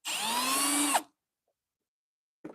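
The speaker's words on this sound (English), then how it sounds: "Drill some holes in the bottom of this" A power drill bores a hole through the bottom of a plant pot, one steady high whine for about a second that stops abruptly, followed by silence and a brief faint knock.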